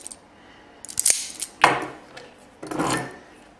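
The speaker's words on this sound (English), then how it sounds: "Go ahead and strip off about an eighth of an inch of insulation." Wire strippers biting through and pulling insulation off an automotive wire for a Delphi OBD2 connector terminal: a few short scraping clicks and snips, close and fairly loud, with quiet gaps and no talk.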